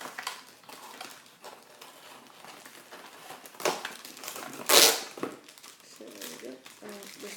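A plastic packet of 24 orange-and-black foam blaster darts is torn open, giving crinkling and rustling with one loud ripping burst near the middle, close up, with a voice talking briefly toward the end.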